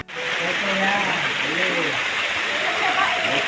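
A river flows through Goa Pindul cave in a steady, loud rushing wash of water, with a voice speaking over it throughout.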